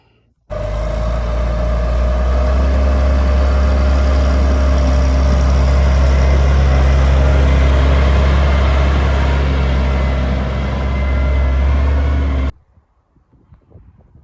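A heavy diesel Case CVX 195 tractor engine rumbles at a steady idle, loud and close, running unbroken for about twelve seconds before cutting off.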